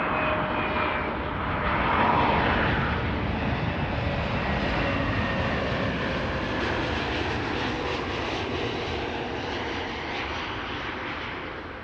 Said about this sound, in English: A321neo, KLM flight 1002, returning from London Heathrow.